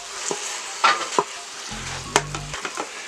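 Ground beef and Italian sausage browning in a pressure cooker: a soft sizzle under a few sharp scraping and chopping knocks as the meat is broken up, plus a short low rattling hum midway, all close.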